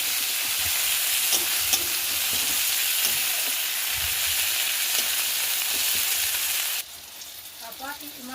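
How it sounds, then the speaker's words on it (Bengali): Chopped tomatoes fry with spices in hot oil in a pan, a loud continuous sizzle with occasional stirring scrapes, dropping to a softer hiss near the end. "এখন এবার ওপর থেকে দিয়ে দিচ্ছি কুচিয়ে রাখা টমেটোগুলো এবং টমেটোটাকেও মশলার সঙ্গে আমরা ভালো করে কষিয়ে নেব"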